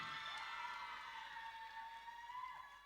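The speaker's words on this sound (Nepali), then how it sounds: "एकपटक जोरदार ताली" A crowd cheers and applauds continuously at a hip hop dance crew performance on a school stage event, the noise steady and fairly distant throughout.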